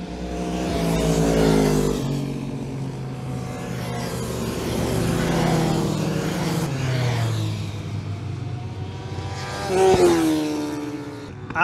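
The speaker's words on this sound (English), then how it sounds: "Some bikes are about to go past" Motorcycles racing past on the wet Donington Park circuit during a track day: several bike engines rise and fade in waves as they pass, moderately loud, with a final rising whine near the end and no talking.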